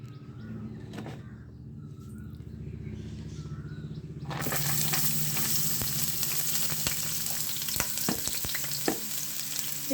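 Onions drop into hot oil in a pan for a small-fish chorchori, and a low hum gives way to a loud, steady sizzle with scattered crackles and stirring clicks that continues to the end.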